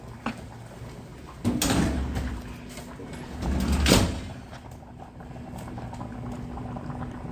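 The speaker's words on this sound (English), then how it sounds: "You ever watch a pot boil?" A pot of water boils on a home stove while spaghetti is being made, giving a steady bubbling wash with a couple of louder surges and knocks, no talk over it.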